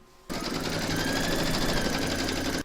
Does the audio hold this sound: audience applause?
no